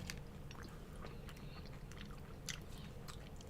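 Close chewing of a crunchy Reese's Big Cup with a cereal filling like Cocoa Puffs, with sharp crackling bites and steady mastication repeating over a few seconds, no talking.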